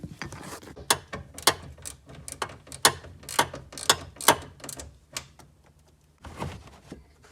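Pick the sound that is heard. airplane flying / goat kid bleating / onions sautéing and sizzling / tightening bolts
tightening bolts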